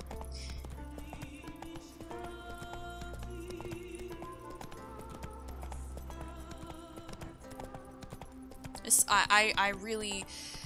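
Horse hooves clip-clop steadily through the open landscapes of Skellige in The Witcher 3 video game, set against an ongoing music score, with a louder burst of sound near the end.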